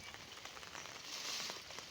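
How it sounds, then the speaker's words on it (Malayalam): Heavy monsoon rain falls in a dense, steady hiss on surrounding surfaces, constant and moderately loud, with no voices. "ഓണമൊക്കെ ആയിട്ട് ഭയങ്കര മഴയാണ്"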